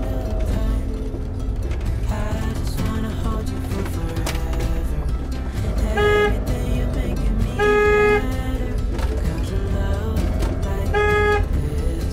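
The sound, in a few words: cars passing on a road in Corsica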